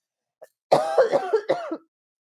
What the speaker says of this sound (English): I really have to cough like so bad